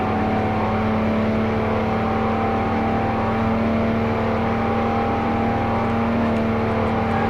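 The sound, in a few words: 1000+ hp Lamborghini accelerating through the gears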